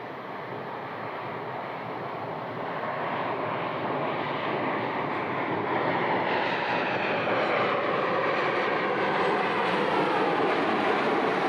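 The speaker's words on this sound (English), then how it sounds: "next to land we've got Ryanair from Ibiza. This is a normal 800 series 737" Ryanair Boeing 737-800 landing at Leeds Bradford airport, a broad steady jet roar that slowly builds and stays loud throughout, with no talking.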